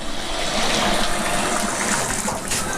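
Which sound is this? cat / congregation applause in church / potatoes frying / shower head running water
shower head running water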